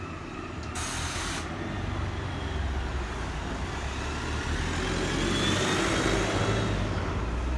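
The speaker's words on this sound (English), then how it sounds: "Oh, regular bus." A regular city bus passes along a street in Exeter, England, a steady broadband engine and road roar that swells slightly toward the end, with no talk over it.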